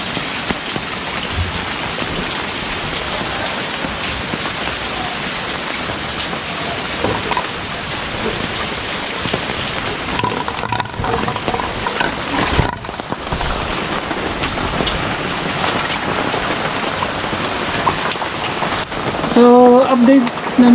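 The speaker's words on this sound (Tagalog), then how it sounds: "sana tumigil na tong ulan na to para humupa na rin yung baha" Heavy rain from Typhoon Ulysses pouring down in Sta. Lucia, Pasig, a dense, unbroken hiss of rain on surfaces that lasts throughout, with faint voices underneath.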